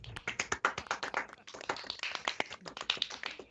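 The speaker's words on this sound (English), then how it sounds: "Everybody give Krakatoa a round of applause" A small group at a tabletop Dungeons & Dragons session claps in a quick, uneven burst of applause, close by, lasting a few seconds.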